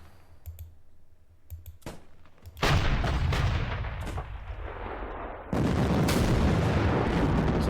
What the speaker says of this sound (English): Need a lot of artillery support here.